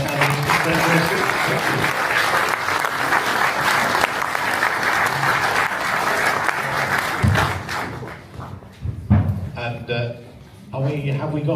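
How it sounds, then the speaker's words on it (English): Audience applause for mayoral candidates at a Doncaster hustings, a dense sustained clapping that fades out after about eight seconds, followed by a voice speaking over the quieter room. "if you'd like to give everybody a round of applause"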